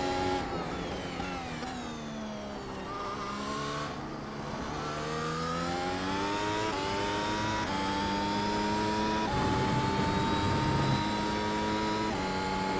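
A Mercedes AMG W12 F1 car engine screams in the iRacing video game, a loud high-revving whine that climbs through the gears with sharp drops at each shift, steady and close with no voices.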